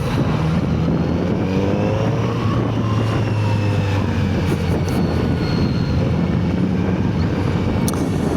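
A Kawasaki Z900RS motorcycle engine drones continuously with a rough, rumbling stock exhaust note, pitch shifting slightly as it revs, close and steady throughout.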